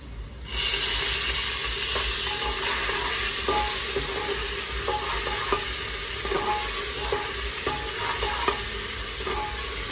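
Tomatoes sauté in a hot pan for mutton masala, a loud continuous sizzle starting abruptly and holding steady, with repeated scraping clicks of a spatula stirring close by.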